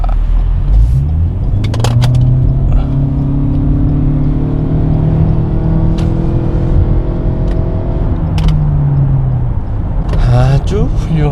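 Lexus NX300h hybrid accelerating hard to merge onto a highway, its engine tone rising steadily and holding loud under constant road and wind noise, dropping away near the end as the car settles into traffic.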